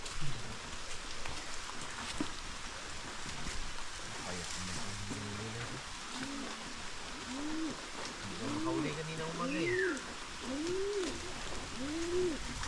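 Steady rain hisses throughout as a dense background wash, with a pigeon cooing repeatedly and low murmuring voices underneath, during an outdoor 80th birthday celebration.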